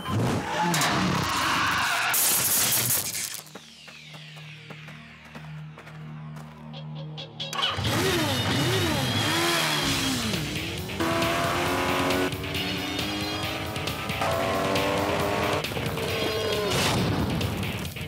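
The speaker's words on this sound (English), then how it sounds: "connected to the noise of the motorcycle" Engine revving and tire screeching from an animated series, with loud sustained motor roar, a sharp squeal and a rumbling lull midway, then rising whining revs and skids continuing to the end.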